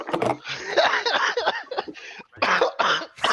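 Several rough coughs and throat-clearing bursts close up, mixed with bits of talking, loud and irregular, with short pauses between.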